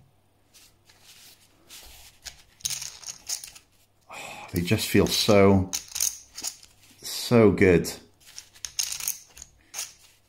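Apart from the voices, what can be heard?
clay poker chips being shuffled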